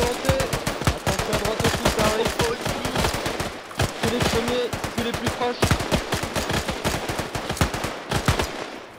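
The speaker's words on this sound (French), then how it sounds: "En joue, feu. Allez-y, tirez à volonté." Rifle fire in the video game ArmA 3 during a large Zulu War battle at Isandhlwana, a dense, loud volley of overlapping gunshots crackling without pause, with faint voices shouting underneath.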